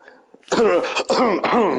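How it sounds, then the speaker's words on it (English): A harsh, throaty cough bursts out in a few close, rough fits after a brief pause, loud and raspy. "Sorry, bad cough."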